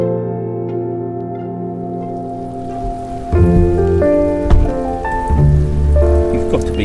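Steady rain falls throughout as a dense, continuous hiss, and tonal music-like notes join partway through.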